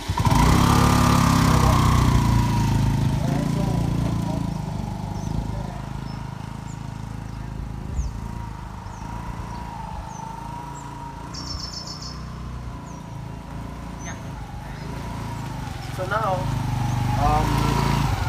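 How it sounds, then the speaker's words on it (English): Bounce rental keyless scooter with its engine idling after start, a steady low putter running throughout, with a voice speaking over it and faint bird chirps in the background. "So let me just start the vehicle now."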